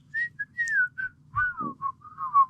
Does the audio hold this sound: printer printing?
no